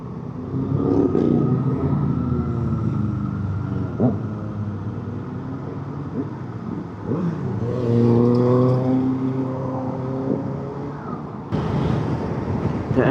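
Suzuki GSX 8TT motorcycle engine cruising steadily in 5th gear around 3000 RPM, a continuous near, droning rumble with gentle rises in pitch as it pulls, plus wind and road noise.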